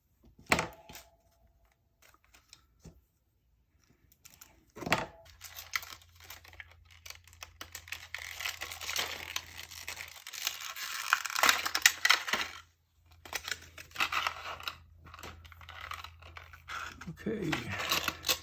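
Plastic blister packs and bags of parts for a Fanhome 1/8 scale 1966 Batmobile model being torn and opened close by, with crinkling, rustling bursts and small clicks of metal pieces, a steady low hum underneath.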